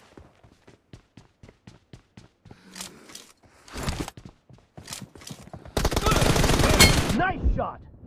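Gunfire in the mobile battle royale game BGMI: a steady run of evenly spaced single shots, then denser bursts building into a loud, sustained volley, with voices and game sounds mixed in.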